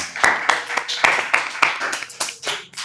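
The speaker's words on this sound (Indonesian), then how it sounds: "Tepuk tangan dulu dong." A small group of students at a school OSIS introduction claps hands, sharp distinct claps at an irregular, uneven rhythm, fairly close, without a dense crowd roar.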